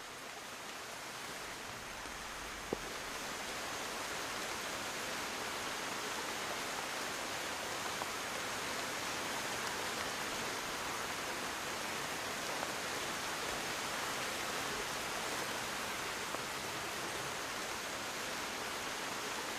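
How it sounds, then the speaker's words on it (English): Heavy tropical forest rain in Costa Rica or Panama pours steadily as a dense, unbroken hiss, loud and constant throughout, with no voices. "The rain is coming down even harder"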